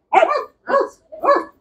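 Dog barking during a training session: three loud, close barks in an even rhythm with short gaps between them, alone with no talk.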